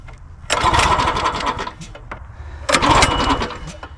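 The small engine on a Craftsman log splitter fires up in two loud, chugging bursts, sputtering briefly between them, close to the microphone.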